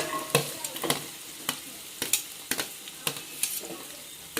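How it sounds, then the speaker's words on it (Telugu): Potato, carrot and green chilli pieces frying in a pan for veg biryani at a street food stall, with steady sizzling broken by regular scraping strokes of a stirring spoon, close and fairly loud. "అదిగా వేపుతున్నాం"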